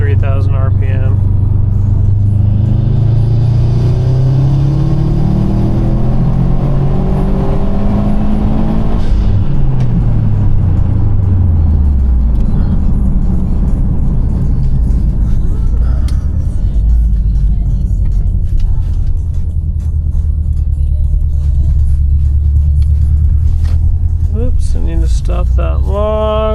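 A 2018 Subaru STI engine on a dyno run revs up and falls back in sweeping tonal rises, a loud, close, steady rumble that holds for nearly half a minute before a second climb late on.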